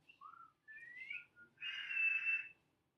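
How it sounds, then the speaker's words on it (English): A person whistles nearby, first a few short rising notes, then a long, warbling, sustained tone, clear and alone against silence. "This is my favorite whistle"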